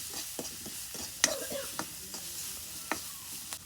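Turmeric, salt and chilli powder fry in oil in a pan, a soft sizzle beneath sporadic scrapes and taps from stirring, fairly quiet and close.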